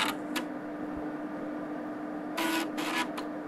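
Floppy disk drive reading a disk, giving short bursts of scratchy mechanical grinding with a quiet steady hum between them, fairly faint.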